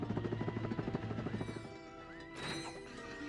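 A helicopter in the video game Ratchet and Clank whirs with a rapid rotor chop, followed by a crash-like burst of game effects, moderately loud with no speech.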